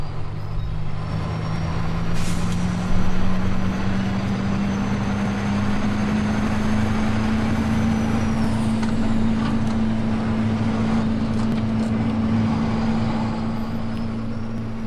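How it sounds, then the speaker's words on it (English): Mack truck in Farming Simulator 2015 driving with a steady engine drone that rises gradually in pitch as it accelerates, plus a brief hiss and faint mechanical clunks around the gear changes. "it sounds like it changes gears when you're driving it"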